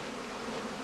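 Honeybees buzzing inside straw skep hives during transport, a dense continuous hum filling the brief moment at steady loudness.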